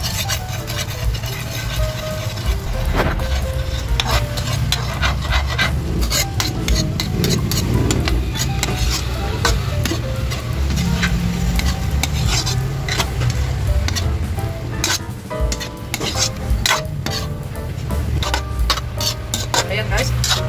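A pork and onion stir fry sizzles in a pan while a utensil scrapes and clatters against the metal in busy, irregular strokes, up close, with a voice talking intermittently over it.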